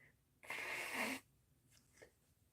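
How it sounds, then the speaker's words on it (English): A single sharp sneeze bursts out close to the microphone during a home art-journaling craft session, lasting under a second against a quiet room, followed by a faint sniff. "That's why I had to sneeze."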